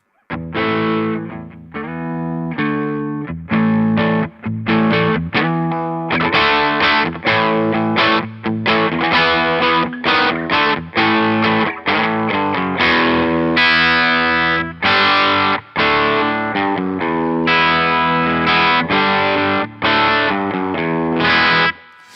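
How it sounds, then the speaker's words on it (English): Heavily distorted electric guitar plays chunky, choppy chords and riffs through a cranked Greenchild K818 amp, loud and continuous with brief gaps between phrases. "So that's mostly distortion from the amp now, because of the output level."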